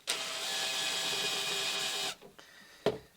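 A drill bit starting a hole in oak end grain, a steady high whirring bore for about two seconds that cuts off, followed by a brief sharp knock.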